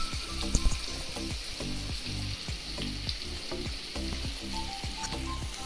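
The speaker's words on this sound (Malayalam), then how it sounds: "അതിനുശേഷം നല്ലോണം ഒരു പാൻ അടുപ്പ് വെച്ച ശേഷം വെളിച്ചെണ്ണ ഒഴിച്ച ശേഷം നമുക്ക് ഇത് വറുത്തെടുക്കാം." Mackerel sizzles steadily in hot coconut oil in a pan, a dense, constant crackling hiss that holds for the whole stretch with a soft tonal background underneath.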